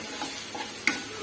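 Tomato masala for garlic kuzhambu sautés in a pan, giving a soft, low sizzle with light stirring scrapes and one sharp clink near the end, faint and close with no talking.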